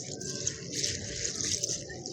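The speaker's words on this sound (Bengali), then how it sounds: "ভালো করে চালটা এবার কচলে কচলে ধুয়ে নেব" Rice being washed by hand in water, with steady wet sloshing and rubbing sounds close by, continuous throughout.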